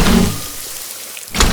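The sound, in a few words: attack hit sound effect for a game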